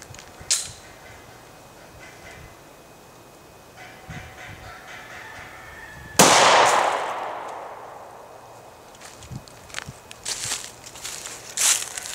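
A .40 S&W +P Buffalo Bore 155-grain hollow-point pistol round fires into ballistic gel with one sharp, loud outdoor report that rings and decays over several seconds, preceded and followed by faint scattered clanks and rustling.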